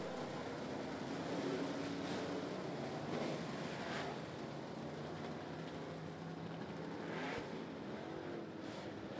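Super late model race cars roll away two by two in double file at Ponderosa Speedway, a steady distant engine drone blended with wind buffeting the microphone, continuous and without clear individual passes.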